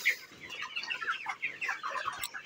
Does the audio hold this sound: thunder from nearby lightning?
no